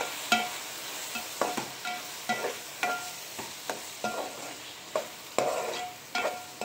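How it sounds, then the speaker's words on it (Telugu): Spoon stirring tomato curry with salt, chili powder and turmeric in an oily pan, a series of distinct scraping strokes at a steady, irregular rhythm over a soft sizzle, close and moderately loud, with no talking. "ఇట్లా ఒక్కసారి తిప్పేసుకో."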